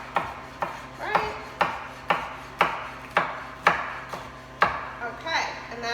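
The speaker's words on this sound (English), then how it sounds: "that's basically how you would chop some of this" Vegetables are chopped by hand with a knife on a cutting board for black bean burgers, giving about ten crisp, evenly spaced chops close to the listener with no talking.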